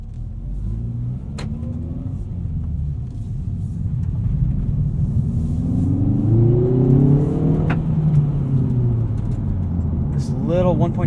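A 2019 Hyundai Veloster Turbo R-Spec's 1.6-liter turbo engine pulls hard in sport mode, its rising engine drone sweeping up through the gears as the car accelerates on the road, heard steadily from inside the cabin.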